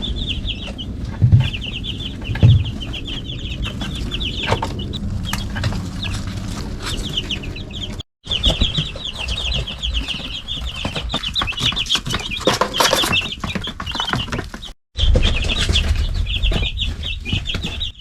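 Cornish Cross chickens in their second week, clucking steadily as a flock with bursts of wing flapping, loud and close throughout, with two brief drops to silence.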